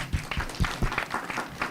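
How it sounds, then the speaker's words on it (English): Scattered clapping rises from an audience at a talk on providing toilets in Nigeria, uneven and fairly sparse, with individual claps audible at close range. "Let's applause for them."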